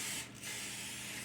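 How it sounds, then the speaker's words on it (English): Release spray from a can coating a pie dish for a flourless pecan crust, a close steady hiss with one brief dip near the start. "Gotta spray it with some release."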